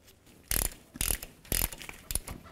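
A ratchet clicks in four quick bursts while a rear differential drain plug on a 1994-2004 Chevy S-10 is snugged down. The bursts are close, sharp and fairly loud, separated by short pauses, with no talking.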